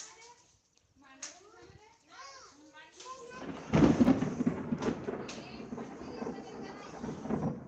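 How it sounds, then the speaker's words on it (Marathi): A loud rumble of thunder breaks out midway through a rainstorm, following a child's chatter, then lingers as a broad roar with steady rain underneath. "किती जोरात वीज गडगडली बाबा"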